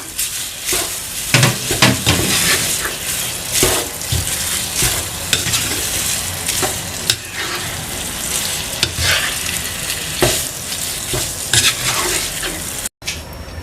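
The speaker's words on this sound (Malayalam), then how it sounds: "ഇതിലോട്ട് നമുക്ക് ഒരു കപ്പ് അവലിട്ട് കൊടുക്കാം എന്നിട്ട് നമുക്ക് നന്നായിട്ട് മിക്സ് ചെയ്യാം" Beaten rice (aval) is stirred into thickened jaggery syrup in a pan while making a banana snack, giving a steady scraping, bubbling stir with frequent spoon knocks and sticky churning that runs the whole time, close and fairly loud, with no talking.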